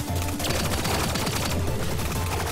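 Gunfire in the video game Relic Hunters Zero: a dense, continuous stream of rapid automatic shots with no gaps, loud and steady for the whole stretch.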